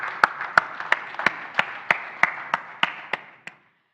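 Slow, evenly spaced claps at a technical conference in Mauritius, about a dozen crisp individual hits ringing in a reverberant hall before stopping abruptly.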